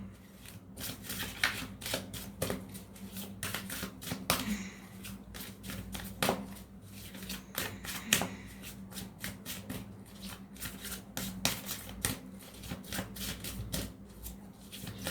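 A deck of tarot-style cards being shuffled by hand, repeated quick riffling and flicking bursts in an uneven rhythm, close and moderately loud with no talking.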